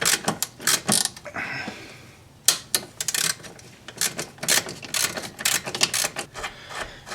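A 16mm socket and wrench turning a strut mount bolt on a 1998 Audi A6 Quattro, heard as a close series of quick, dry ratcheting clicks and rasping scrapes in short irregular bursts with a brief pause.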